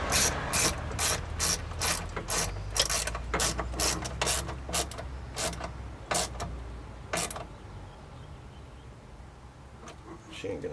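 A ratchet tightening a clamp on a 2003 BMW 525i window regulator, with a run of rapid, close metallic clicks that slows and stops, followed by quieter handling noises while someone talks.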